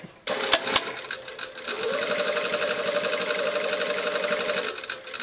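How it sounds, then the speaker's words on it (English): A sewing machine stitches a welt pocket with a flap in one continuous, steady run lasting several seconds, preceded by a couple of sharp clicks at the start. "So I'm going to sew down to the dot."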